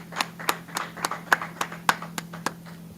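A group clapping hands in unison at a street law class, about ten sharp, evenly spaced claps in a steady beat over a low constant hum, no voices heard.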